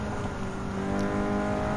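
Steady, loud race car engine exhaust droning continuously on an urban highway circuit in Gran Turismo 7, a sustained mechanical roar with no break.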